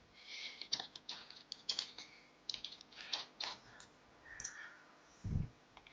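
Light clicking of computer keys as a display name is typed in, a few irregular short bursts of taps with brief gaps, soft and close with no voices.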